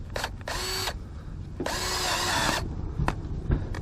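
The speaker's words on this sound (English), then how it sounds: "Let's use our handy dandy drill and secure this guy on here." A power drill fires in two bursts of whirring, a short one and then a longer one, as it secures a French drain pop-up fitting outdoors, with quiet handling noises and clicks between and after.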